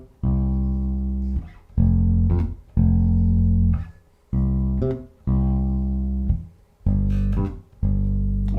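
Funk bass rhythm pattern in C with the octave added on a 16th-note hiccup, sustained low notes broken by short quick octave jumps, repeating cleanly and close with no talking.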